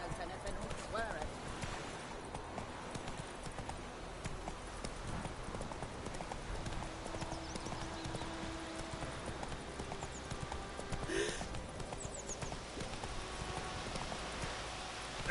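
Roach, a horse in The Witcher 3, gallops in a steady, rapid clip-clop of hooves, loud and continuous beneath a man's spoken urging.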